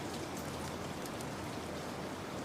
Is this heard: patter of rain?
yes